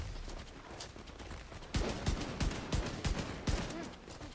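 LMG machine gun fire in The Division 2, a rapid run of heavy punchy shots in quick succession over a busy background of battle noise, loud and close.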